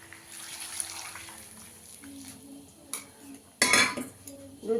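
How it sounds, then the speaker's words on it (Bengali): Hot water poured into a pot of chicken curry, a short splashing gush near the end after light clinks of pots and utensils in a home kitchen. "এখানে আমি ঝোলের জন্য গরম জল করে রেখেছি, দিয়ে দেবো"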